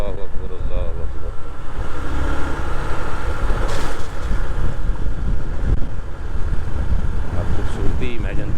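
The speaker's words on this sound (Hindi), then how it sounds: "हवा चल रही है बड़ी तेज़" Strong wind roars against the microphone on the mountain road from Lulusar Lake to Lalazar in Pakistan, a constant heavy rush, loud and close, with brief muffled bursts of louder buffeting.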